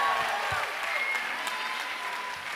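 Audience clapping after a student band concert, a dense, steady wash of applause that starts loud and slowly eases off, with a few voices faintly audible beneath it.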